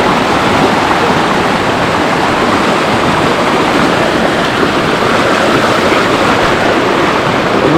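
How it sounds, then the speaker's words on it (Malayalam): Fast-flowing stream water rushes loudly and steadily at a river crossing on a forest trek to Adam's Peak in Sri Lanka, a continuous close roar with no voices. "വെള്ളം നല്ല സ്പീഡിലാണ്."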